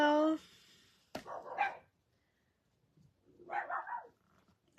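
Puppies barking somewhere outside at a house, high yappy barks that come in two separate bursts with quiet gaps between them, moderately distant, following a brief voice at the start.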